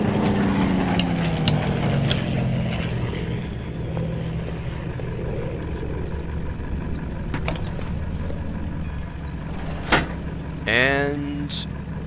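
Car in Plane Mechanic Simulator revving and pulling away, a low engine drone sliding down in pitch and fading into a steady rumble, followed by a couple of sharp clicks and a short whine near the end.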